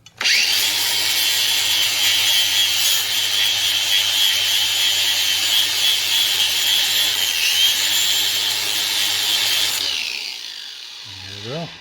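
A painted metal part is sanded down to shiny bare metal, with a loud, continuous rasping whine close by for about ten seconds before it winds down and stops.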